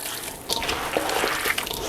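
Kneaded shredded cabbage for sauerkraut releases its liquid, a close, wet squelching and dripping with a continuous splashy hiss.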